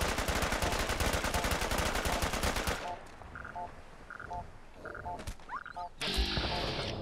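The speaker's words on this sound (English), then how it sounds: "That's a synth weapon." Synth weapon from the game Horizon fires a dense, rapid burst of gunfire for nearly three seconds, followed by quieter electronic chirps and beeps, then another loud burst at the end.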